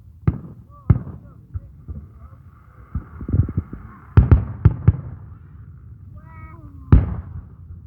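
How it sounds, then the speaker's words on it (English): A scattered run of fireworks pops and booms at varying distances, some sharp and close, others faint, with a cluster of quick bursts near the end and voices talking throughout. "look up at the fireworks"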